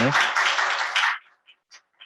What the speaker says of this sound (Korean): 지금까지 발표해 주신 지역농업 네트워크 길청순 이사장님께 다시 한번 박수 부탁드리겠습니다